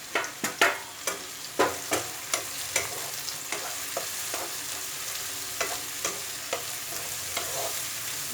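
Okra fries in hot refined or mustard oil with onion in a pan, a close steady sizzle punctuated by regular spatula scrapes and knocks, loudest at the start, with no talking.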